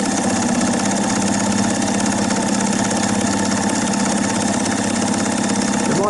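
The motor of a vintage DeVry 35mm movie film projector runs with a steady, even mechanical hum and whir, close and continuous, with no pause or change in level throughout.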